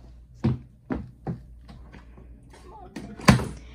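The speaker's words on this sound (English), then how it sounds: "if you'll open the drawer for us, Sevryn." A drawer on a wooden board game cabinet is pulled open, giving a few soft knocks and thunks spaced through the moment, with a sharper clack near the end, all close and moderately quiet with no talk over it.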